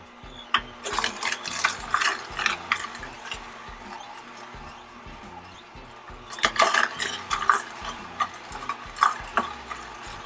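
An Omega VSJ843 slow juicer crushes pre-cut carrots in a burst of irregular cracking, snapping and crunching over a low motor hum, falling quieter midway and then resuming with more sharp crunches.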